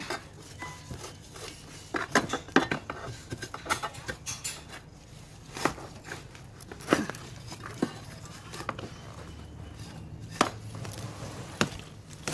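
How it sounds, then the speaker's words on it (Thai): Young ginger being dug from garden soil, with repeated crisp chopping and scraping strikes of a digging tool, irregular taps and crunches close by, no talk over them. "ขุดขิงอ่อนกันนะคะ"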